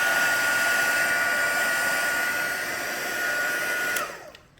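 Heat embossing tool blowing hot air over a card, a loud, steady close-up whoosh with a high whine that runs continuously before the tool switches off and winds down at the end.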